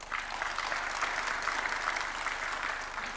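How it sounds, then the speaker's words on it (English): A warm round of applause fills a hall at a university charter award ceremony at State House, Nairobi, dense, steady and sustained clapping from a sizable audience. "I kindly invite everyone to join me in giving a warm round of applause to these distinguished"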